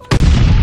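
A stun grenade in Call of Duty Vanguard bursts with a loud, abrupt boom and a booming low rumble that lingers to the end.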